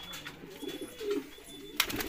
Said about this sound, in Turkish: Bursa güvercini mi, Adana güvercini mi acaba?